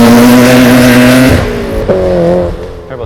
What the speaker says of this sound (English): I think the signature sound is from the BorgWarner S300 turbos.